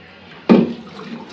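A child bathing while seated in a bathtub, one sudden close splash of water followed by gentle sloshing and dripping at low level.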